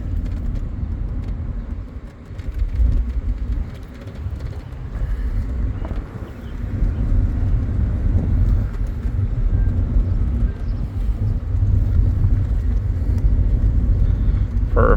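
A 2003 Mercedes-Benz SLK 320 roadster drives on a road, with a continuous low engine and road rumble heard from inside the car, steady and moderately loud, mixed with some wind noise.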